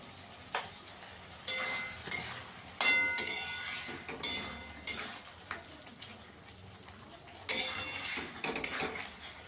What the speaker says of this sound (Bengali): আলুগুলোর সঙ্গে ভালো করে কষিয়ে নেব